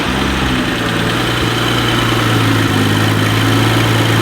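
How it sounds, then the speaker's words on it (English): BMW X3 35i with the turbocharged N55 engine idling with a light misfire, a steady close low rumble that wavers slightly as it stumbles in and out. "Kind of hear it coming in and out of power. So we've got a light misfire somewhere."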